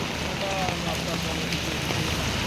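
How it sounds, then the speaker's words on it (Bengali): Heavy rain falls steadily outdoors in Murshidabad, a dense, even wash of noise that holds constant throughout with no lulls or distinct drops. "এখন দেখুন আমাদের মুর্শিদাবাদে প্রচণ্ড হারে এখন আজকে বৃষ্টি হচ্ছে,"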